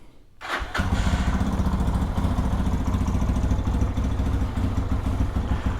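A Lifan KPX 250 dual-sport motorcycle starts on a cold morning and settles into a steady, close idle with a throbbing, slightly clattery engine note that carries on evenly throughout.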